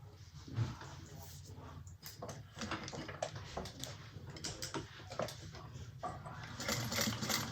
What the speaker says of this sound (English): we're going to clip it together and we're going to sew it at 1/4 inch